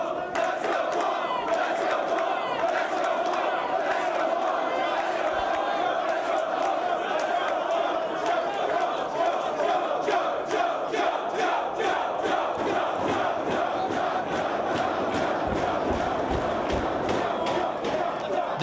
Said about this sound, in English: This crowd in Dayton showing their support for both men.